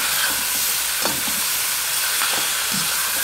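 Samoan-style lamb stir-fries in a pan, hissing with a loud, continuous sizzle broken by short bursts as the meat is stirred and tossed. Nobody speaks.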